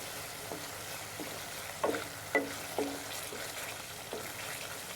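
A spicy chicken curry's spice paste fries in a pan under a quiet sizzle while being stirred, with a few distinct scrapes and knocks of the spoon against the pot.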